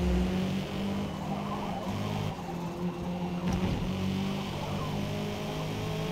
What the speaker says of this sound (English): I'm just gonna roast my tires, it's fine.